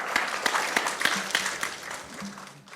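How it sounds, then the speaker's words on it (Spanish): Applause from a church congregation in an auditorium, many hands clapping in a steady rhythmic beat, with faint voices and a brief tone sounding under it near the end. "Dale un fuerte aplauso al Señor."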